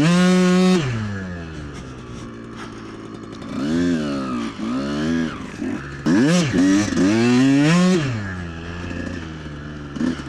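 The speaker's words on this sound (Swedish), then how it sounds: "Det låter typ som en 50 kubikare som är liksom oväxlad, eller som inte har någon växlar så." Small engine with a gearless 50cc moped character revving in a snowy setting, a buzzy, nasal drone that rises and falls in pitch through repeated throttle swells, loud and close, alone without talk.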